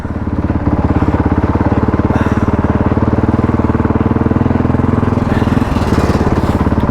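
An enduro motorcycle engine idles and runs steadily at Halstead Hills, a loud, close, rapid mechanical putter that holds constant throughout with a slight swell in revs partway through.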